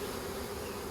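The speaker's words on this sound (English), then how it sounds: "I'm just going in gently so I don't smush any bees here." Swarm of honeybees being moved into a hive, a faint steady hum of buzzing wings held throughout the brief moment with no voices.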